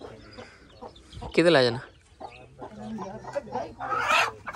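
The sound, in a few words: hen clucking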